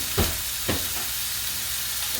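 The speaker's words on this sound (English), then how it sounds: "I'm going to add the chorizo. If you don't hear that sizzle, then it's not hot enough." Chorizo sizzles steadily in a hot pan, with two brief bursts of louder hissing near the start as it is stirred.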